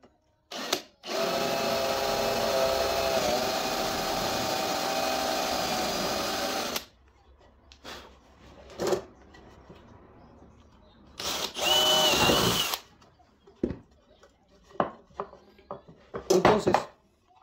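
An electric drill with an 8 mm bit bores a hole for a homemade soap press, a loud steady whine for several seconds, then short bursts of drilling and handling clatter between pauses.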